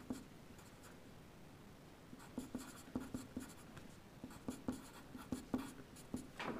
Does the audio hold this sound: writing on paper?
yes